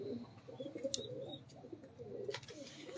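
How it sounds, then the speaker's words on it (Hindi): Pigeons in a breeder's loft coo softly and repeatedly, faint and somewhat distant, mixed with scattered chirps and light clatter, no voices. "रेडीमेड कबूतर है ये, जेन्युइन रेडीमेड कबूतर होते हैं ये जी"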